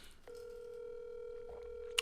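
A phone call rings out while waiting for someone to answer: a single steady electronic ringback tone begins after a moment of near silence and holds evenly, faint and thin, with a brief click near the end.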